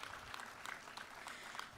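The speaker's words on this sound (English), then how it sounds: "Please give a huge round of applause to Mr." Audience applause for John Levingston after his talk at a morning conference session, a faint, steady patter of clapping lasting under two seconds in a large hall.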